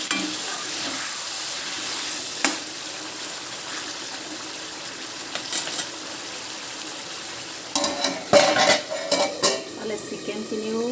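Cashew chicken cooking in a covered pan over a medium gas flame gets stirred: a low steady sizzle runs throughout, then a burst of close metal scrapes and clinks from the utensil against the pan near the end.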